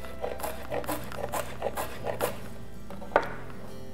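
A knife finely chopping cabbage on a board, a quick series of evenly spaced taps followed by one sharper, louder chop near the end, close and clear with no talk.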